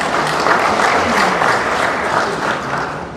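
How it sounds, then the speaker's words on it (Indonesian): Audience applause at the opening of a regional PDI Perjuangan party conference in Aceh, a dense, steady wash of clapping from a large crowd lasting the whole moment, loud and close. "Beri tepuk tangan untuk kita semua."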